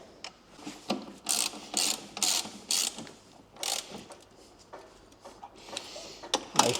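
A ratchet wrench tightening screws on a Yamaha NMAX 125 scooter during a service, a series of quiet, close clicking bursts with short pauses between strokes, no talking.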